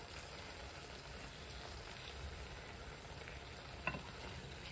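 Chicken pieces frying and sizzling in hot ghee and masala for a chicken roast, a faint, steady hiss with a light stir clatter near the end, no talk.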